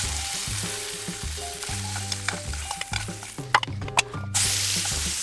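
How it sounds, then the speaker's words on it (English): Asparagus pieces sautéing in leftover butter in a pan give a steady, close sizzle with repeated scrapes and clacks of stirring, and one louder burst of frying near the end. "use the remaining butter in the pan to saute up the asparagus pieces"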